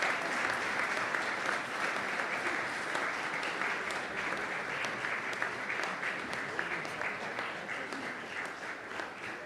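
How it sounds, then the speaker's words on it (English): Sustained applause from a large audience at a university conferring ceremony in Connemara, a dense steady roll of many hands clapping at even loudness throughout, with no talk over it. "and a round of applause."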